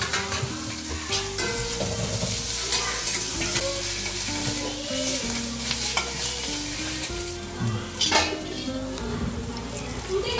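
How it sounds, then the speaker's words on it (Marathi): Onion and clam masala is stirred and fried in a pan over a wood-fired stove, with rhythmic spoon scrapes and clatter over a constant close sizzle, with no talk. "कांदा चांगला लालसर असं पोळून घेतलं आहे. आता त्याच्यामध्ये हे सर्व आता व्यवस्थित एकत्र करून घेऊया."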